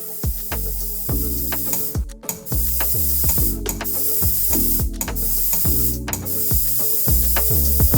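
A POWER steamer gives off a continuous loud hiss of steam, with rhythmic clicking and pulsing from the machine's mechanism running throughout.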